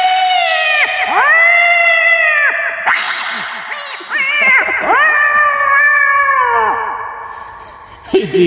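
A man imitates cats fighting, voicing a series of long, loud, wailing meows and caterwauls that rise and fall, with short breaks between drawn-out yowls.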